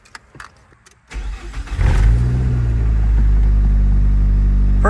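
A turbocharged Nissan Sentra Spec-V with factory Nismo exhaust starts up close by: a brief crank, then the engine catches and rises before settling into a loud, steady low idle rumble.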